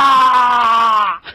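A single loud, sustained shout, a strained yelled cry held for about a second and then cut off abruptly, close and alone.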